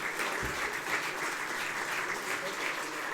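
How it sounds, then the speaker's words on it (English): A plenary session audience at a Rotary Institute applauds the speakers, continuous dense clapping at moderate distance that stays even across the clip. "Let's give all our speakers another round of applause"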